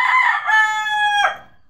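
A single rooster crows once, loud and close, in a clear drawn-out call that breaks off abruptly.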